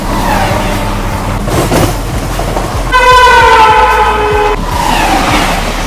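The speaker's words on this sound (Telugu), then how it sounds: "ఈ రోజు మనం ట్రావెల్ చేస్తున్న ట్రైన్ వచ్చి 12712 పినాకిని సూపర్ ఫాస్ట్ ఎక్స్ప్రెస్." The 12712 Pinakini Superfast Express runs at speed, a loud rumbling roll of wheels on rails with rhythmic clacks, and a long horn blast sounds midway through.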